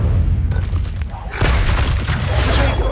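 A booming fire spell erupts in Hogwarts Legacy, a loud, dense roar of flame and blast noise that swells after a brief dip and stays heavy and continuous to the end.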